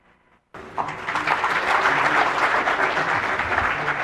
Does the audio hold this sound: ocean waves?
no